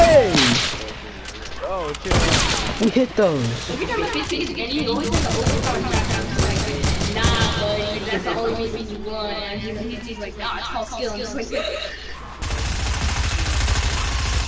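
Rapid bursts of gunfire crackle through the clip alongside game sound effects, while someone talks excitedly over the shooting.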